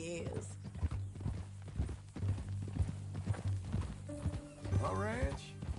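Rhythmic horse hooves clip-clop at a steady walking pace in a Western ranch video game, with a voice talking over the steps and an occasional snort.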